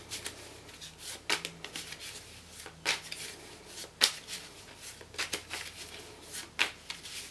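A deck of cards, used as oracle or Psi cards for a prediction reading, is shuffled repeatedly close by, giving crisp riffling bursts with short pauses between them.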